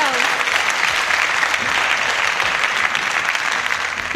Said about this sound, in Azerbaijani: Alqışlar, təşəkkürlər.